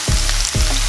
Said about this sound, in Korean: 간장을 둘러주겠어요.